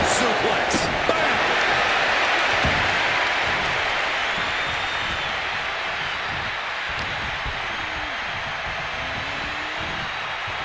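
Arena crowd roaring and cheering in the WWE 2K25 wrestling video game during a match, a dense continuous wash of noise that stays loud throughout, with game commentary voices occasionally under it.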